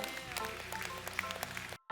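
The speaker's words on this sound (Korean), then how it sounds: "우리 다 같이 박수 한번 영광의 박수" A church congregation gives a round of applause, scattered sharp claps over a sustained tonal backdrop, cutting off abruptly near the end before a brief return of sound.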